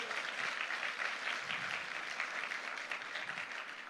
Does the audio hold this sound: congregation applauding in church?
yes